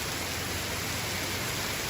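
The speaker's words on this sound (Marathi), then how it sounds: "पाऊस बघा तुम्ही पाऊस बघा" Steady hiss of rain falling, an even wash of noise with no pauses and no voices.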